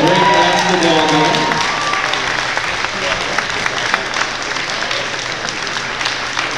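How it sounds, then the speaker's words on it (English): Sustained loud applause for both teams after a girls' high school basketball bronze medal game at a provincial championship, with dense clapping and crowd noise continuing throughout, briefly overlapping speech at the start. "Let's have a big round of applause for both teams and a great basketball game."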